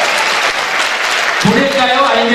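Audience applause at a winter radio DJ concert, sustained clapping throughout; about halfway a voice starts speaking over the fading clapping.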